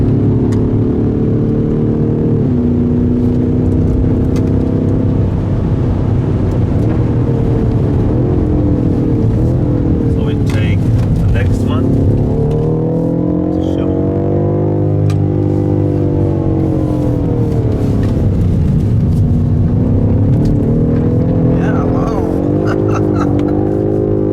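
BMW M5 Competition on a track lap with DSC switched off, its engine loud and close, revving up and down through gears with rising and falling pitch, no voices.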